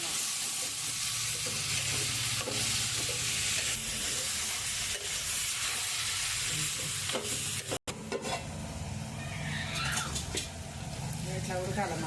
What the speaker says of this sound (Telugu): టమాటా వేసుకొని మంచిగా ఉడుతుంది.